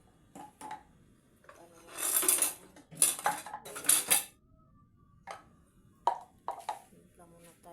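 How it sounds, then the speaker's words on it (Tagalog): Dirty dishes being cleared away and handled, with bursts of clattering plates and cutlery, scraping and rubbing in several loud clusters separated by quiet gaps. "Ligpit muna natin ito guys yung hugasan."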